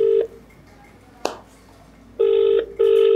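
A telephone call being dialed: a short tone, a click, then two long repeating ringback tones with a pause between them, clear and close.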